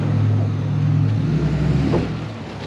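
A Peterbilt 389 short-hood truck's engine runs close by in a steady, heavy low rumble with a deep droning tone, easing slightly toward the end, with no talking.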